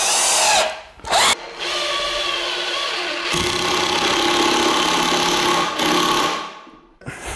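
A power drill drives screws into timber while a stud wall partition is built during a renovation, running in long, loud, steady whirring bursts with short pauses and restarts between them, close by.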